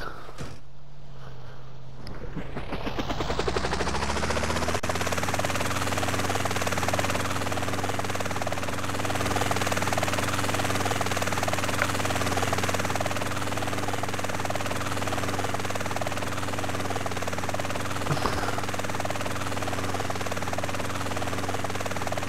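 A water helicopter in the video game GTA San Andreas spins up from quiet into a loud, steady rotor and engine drone that holds unbroken for about twenty seconds, with no talk.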